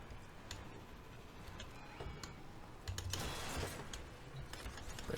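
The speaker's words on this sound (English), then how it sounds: "Apologies if you hear a lot of button mashing. My keyboard's loud." Loud computer keyboard hammered rapidly during button-mashing gameplay, a dense run of close clicks and clacks with a louder burst of keystrokes midway.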